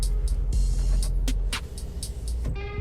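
A Toyota Camry 2019 half-size sunroof closing under a held button, giving a soft motor whir over low cabin hum, with small clicks along the way and a final mechanical stop near the end, quiet and close.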